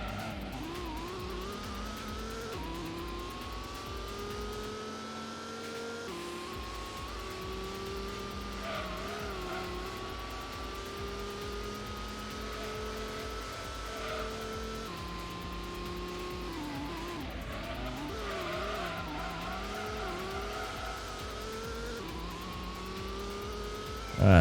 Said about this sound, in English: I have to keep blipping the throttle because the car just doesn't want to turn.